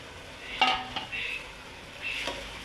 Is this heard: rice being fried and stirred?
yes